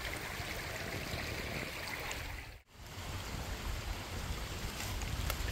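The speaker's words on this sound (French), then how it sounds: "Au bord du cours d'eau" A stream flows beside a woodland watercourse, a steady soft rushing of water, close and continuous, with a brief dropout in the middle and no speech.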